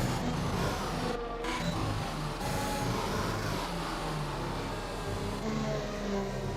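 Race car engine in an Xbox racing game at the Portugal circuit, a continuous droning engine tone running steadily throughout, moderately loud with no talk.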